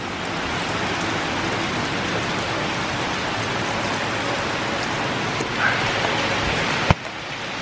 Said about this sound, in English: It's rain time. 2-3 o'clock in the afternoon. Daily rain showers.